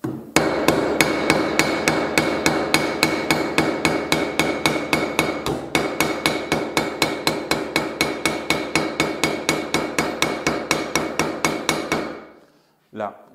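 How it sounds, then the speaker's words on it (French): A hammer pounds a zinc sheet laid flat to stretch and flatten it, roughly fifty sharp ringing blows at a fast, steady rhythm, loud and close, stopping abruptly before one last light tap. "on va venir mettre notre zinc bien à plat et on va l'écraser avec les coups de marteau de manière à l'étirer"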